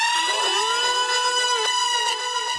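A deep, droning distorted scream pitched down, sustained and buzzing with a few wavering bends, loud and steady throughout.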